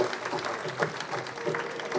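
At a lifetime achievement awards ceremony, an audience claps for the award recipients, steady applause from a crowd that sounds somewhat distant.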